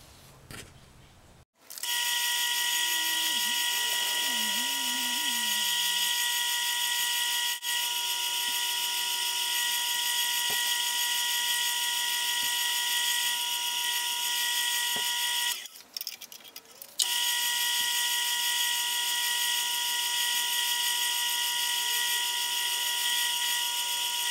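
A polishing machine buffs a clear Revomaze sleeve with a loud, constant high whine that runs for over twenty seconds, briefly dipping a couple of times, close and steady.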